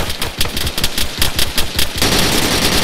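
Rapid, rhythmic bursts of machine gun fire in ARMA 3, loud and close, with individual shots pulsing steadily before merging into a denser roar of fire.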